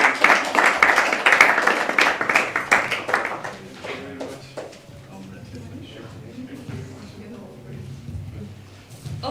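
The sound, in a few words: audience clapping during certificate presentation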